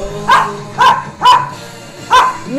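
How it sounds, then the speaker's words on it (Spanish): Dogs barking indoors at home, four loud separate barks spaced roughly half a second apart, each with a sharp onset and a short tonal tail, with no talk over them. "Milo ladrando, Alana ladrando"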